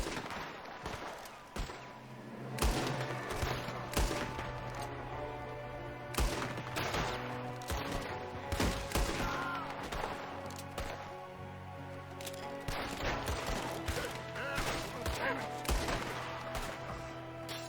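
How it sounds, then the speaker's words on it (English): Gunfire in Red Dead Redemption 2, a shooter firing from a window: repeated sharp shots and bursts through a sustained musical score, fairly loud and dense throughout with brief voices mixed in. "There's another one shooting from the window."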